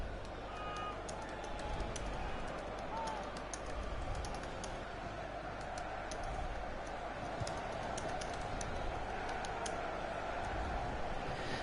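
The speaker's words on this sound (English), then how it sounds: "I'm just typing a response to..." Someone types on a computer keyboard in a quiet room while a FIFA 17 match plays. The keys make soft, irregular clicks that run steadily over a faint background hum.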